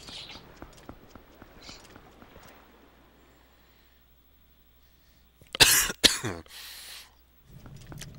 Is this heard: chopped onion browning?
no